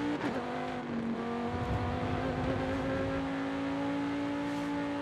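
A race car in Forza Horizon 5 accelerates hard and holds a steady, loud high-revving engine tone, with no talk over it.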